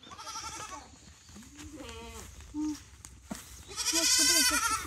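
Young goats bleat at a campground eco park, several short wavering cries scattered through the stretch, with a louder burst near the end and faint voices in the background.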